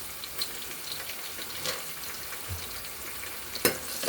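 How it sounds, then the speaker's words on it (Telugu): Peanuts frying in hot oil, a steady soft sizzle with a few scrapes of stirring and one sharper clatter near the end, no talking. "తర్వాత పల్లీలు బాగా ఫ్రై చేసుకోవాలి గోల్డెన్ బ్రౌన్ కలర్ వచ్చేదాకా"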